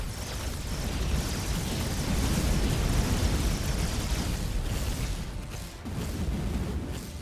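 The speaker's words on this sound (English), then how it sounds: "Those were celebratory fireworks." Celebratory fireworks go off in the 4X strategy game Hyper Empire: a loud, sustained rumbling roar of overlapping bursts and booms that keeps up for several seconds and dips briefly near the end.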